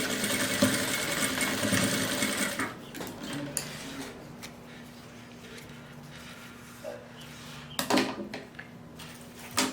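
A sewing machine runs a seam along a zipper, a fast steady motor whir for a couple of seconds, then quieter handling clicks and a few short bursts of stitching.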